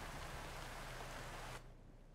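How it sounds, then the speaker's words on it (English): Rain falls in American Truck Simulator around a 2018 Volvo VNL 740 truck, a loud, dense, hissing wash that drops off sharply near the end. "Rain is a bit loud."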